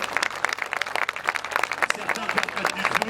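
An audience applauds firefighter trainees at a fire service training centre open day, with brisk, uneven clapping and distinct individual claps over a few seconds.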